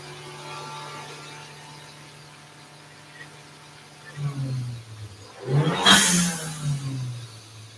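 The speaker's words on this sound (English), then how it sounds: "John's got the new tune in the car" A big-turbo Dodge Dart on a dyno: a low steady idle hum, then the engine revs in two rising bursts, the second louder with a sharp roaring peak before settling back down.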